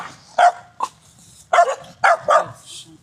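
A dog barks in short sharp bursts, about five distinct barks spaced irregularly, loud and close in an otherwise quiet setting; the dog belongs to a homeless man who keeps thirteen dogs.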